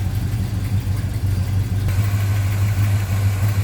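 A 1963 Chevrolet Nova SS with a 350 V8 idling under the open hood, a steady low loping rumble held close and loud without any talking.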